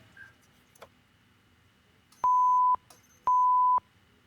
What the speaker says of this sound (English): I'm going to do a continuity test. Hear the beep there